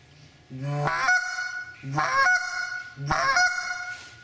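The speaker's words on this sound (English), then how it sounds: "Once you speed it up a little bit, it actually starts to sound like a goose." A hand-held goose call blown with diaphragm voice gives three loud, separate honks, each rising in pitch and breaking sharply, with short pauses between and nothing else around them.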